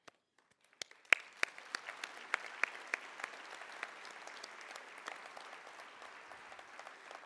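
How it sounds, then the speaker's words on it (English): A luncheon audience at an annual business and awards event breaks into applause, starting with a few scattered claps that quickly swell into sustained, steady clapping from a moderately sized crowd heard from a distance. "allow us to give you a big round of applause"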